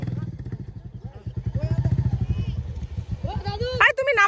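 A Royal Enfield Bullet motorcycle idles with a steady, close thumping beat while being loaded for a river crossing, the single-cylinder rhythm clearly audible under excited voices and shouts, ending in a brief clatter.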